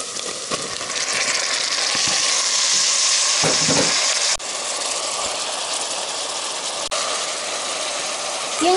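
Mushrooms, coarsely cut, fry in a pan for a simple lean soup, giving a steady, loud sizzle with occasional stirring scrapes throughout.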